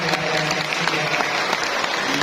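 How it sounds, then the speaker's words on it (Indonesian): An audience at a BKKBN community event in a hall in Umbulsari, Jember, applauds a presenter, a continuous dense patter of many hands clapping at an even level, with little else audible. "Boleh kasih tepuk tangan juga untuk Pak Yasir."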